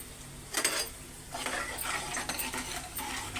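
A spoon stirs vegetable curry with broad beans, leafy greens and turmeric in a pan, giving a few scraping, clinking strokes close by with soft sizzling in between, no voices.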